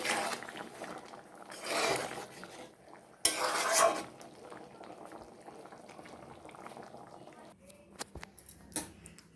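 A spoon stirs a simmering egg curry in a pan, the gentle bubbling punctuated by two louder bursts of scraping, then a few light clinks of utensil on metal near the end.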